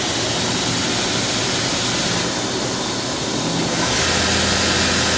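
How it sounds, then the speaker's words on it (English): A Fadal VMC-4020 FX vertical machining center spindle spins up at speed, giving a loud, steady broadband whir with no talk, its pitch and loudness rising slightly near the end. "Thousand RPM on the spindle."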